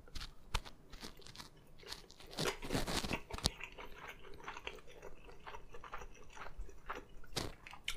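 Close-up chewing of crunchy tuna sushi with radish: irregular crisp crunches and wet bites, loudest in a burst near the middle, with no talking.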